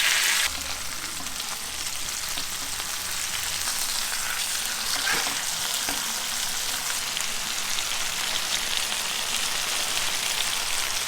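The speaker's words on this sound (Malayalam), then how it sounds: "അപ്പൊ നമ്മുടെ മീൻ ഇവിടെ ഇരുന്ന് ഫ്രൈ ആവാനായിട്ട് ഒരു 10 മിനിറ്റ് മതി." Fish sizzling in hot oil in a pan, a steady dense crackle and hiss that continues for the whole stretch, loud and close with a few faint knocks.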